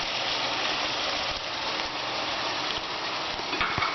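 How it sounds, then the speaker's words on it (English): A steady, continuous sizzle of canned tomatoes frying in a hot pan, with a few faint clicks near the end and no talking. "Just going to put that right in there and get that nice sizzle."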